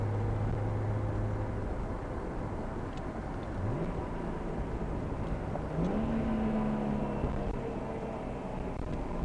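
A Nissan Skyline R32 GTR with a T67 single turbo cruising at easy pace, a steady engine drone with gear changes and rising revs heard from inside the car.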